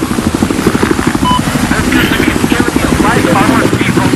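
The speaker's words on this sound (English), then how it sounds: "I think there's a chopper already." A helicopter in the Battlefield 4 video game keeps up a steady, loud rotor chop, with dense game noise filling the background.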